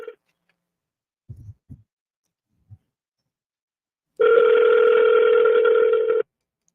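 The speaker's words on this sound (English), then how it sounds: "I'm calling James back" A telephone call rings out as a single loud, steady electronic tone lasting about two seconds, following a few short faint clicks in an otherwise quiet line.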